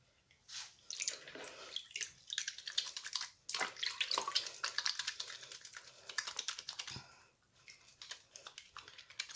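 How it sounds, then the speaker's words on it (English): Hands are washed under running water with fresh homemade cold process soap, giving a steady splashing and rubbing sound with brief pauses and no talking. "I'm going to wash my hands with it and see how well it lathers up."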